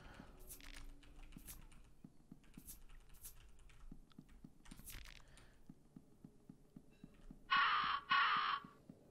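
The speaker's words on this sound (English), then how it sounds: "The crows are feasting on the body." In the horror game Fear & Hunger 2: Termina, crows feasting on a body give several raspy caws in the first half. The faint cawing sits over a soft, steady ticking, and a brighter tone sounds near the end.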